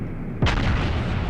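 A heavy naval gun blast from a warship in the World of Warships video game, one loud booming shot with a long rumbling tail, heard alone.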